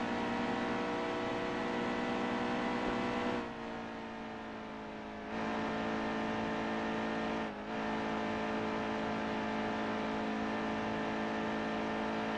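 A Camping World Truck Series race truck in NASCAR Heat 2 at Kansas drones loudly out of turn four. The engine holds a steady, buzzing pitch, with a brief drop in level partway through and a short dip later.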